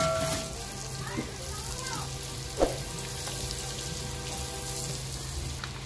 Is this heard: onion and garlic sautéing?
yes